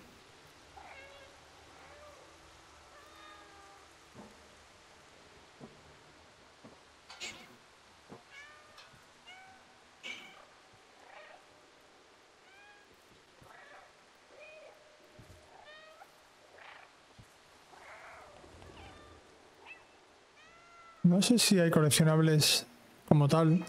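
Meows from the cat in the video game Stray, several short calls scattered under a gamer's ongoing Spanish commentary, ending in a louder, denser burst of game sound.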